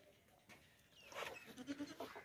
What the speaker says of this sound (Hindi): लंबा चौड़ा ज़बरदस्त बकरा है